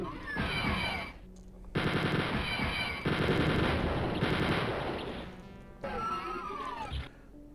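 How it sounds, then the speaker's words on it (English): Turret machine gun firing in the video game Mutated Strains, long sustained bursts of rapid automatic gunfire broken by short gaps, loud and close with no talk. "They can't get in because of the goddamn turret?"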